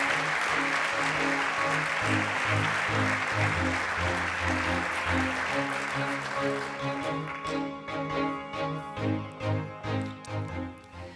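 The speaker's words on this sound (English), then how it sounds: "A big applause for him." Audience applause for the STMicroelectronics CEO taking the stage at an electronics trade fair roundtable, a dense sustained clapping with steady music underneath, thinning into scattered claps toward the end.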